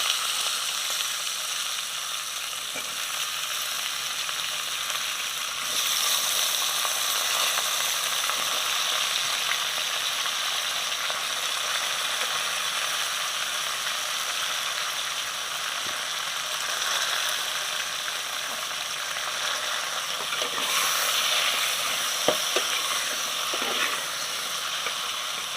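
Brinjal and onion fry in a pan with a steady, dense sizzle that runs the whole time, swelling a little louder at moments, with faint stirring clicks near the end and no talking.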